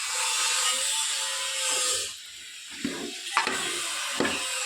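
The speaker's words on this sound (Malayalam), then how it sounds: "നല്ലോണമായിട്ട് ഇളക്കണം കേട്ടോ. ഞാനൊന്ന് ഇളക്കട്ടെ." Cucumber pickle mixture is stirred in a pan with a sizzling hiss, then scraping strokes and a few sharp clinks of the spoon against the vessel, close up, with no one speaking.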